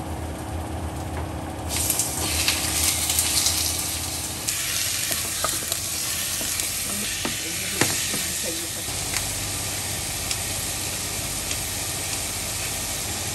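Chicken goes into a pan of softened, translucent onions and fries: a steady, loud sizzle and hiss with occasional scrapes and clinks of stirring, fairly close and continuous.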